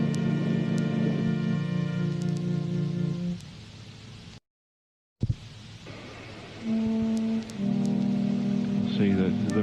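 Rain falls as a soft, steady patter beneath sustained synth tones. The music drops out briefly into near silence partway through, then the tones and rain return.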